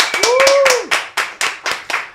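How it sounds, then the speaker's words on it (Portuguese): Studio podcast team clapping for a guest, a short burst of sharp hand claps in a loose rhythm, close and loud, with a voice briefly rising over the first claps. "E eu quero pedir para a nossa equipe, mais uma vez, um forte aplauso para o Luciano."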